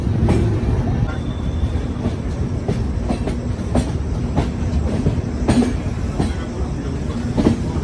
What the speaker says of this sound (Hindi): रुड़की में अराइविंग करती हुई योगा एक्सप्रेस।